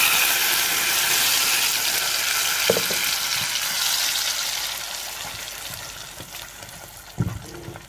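Ingredients frying in a pan with three spoonfuls of hot oil, a steady broadband sizzle filling the whole stretch, with a few soft clinks and stirs near the end and no talk.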